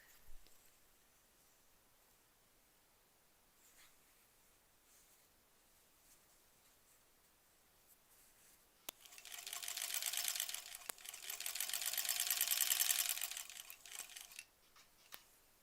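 After a long quiet stretch with faint handling noises, a sewing machine stitches sashing through quilt layers in two short whirring runs that are brief, close and moderately loud.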